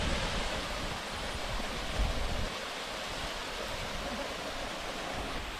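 Lingala Gattu waterfall near Srisailam dam pours in a steady, dense roar of rushing water, loud and unbroken throughout, with no voices.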